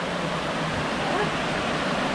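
A waterfall roars at close range on a steep gorge hiking trail, a dense, unbroken rush of water.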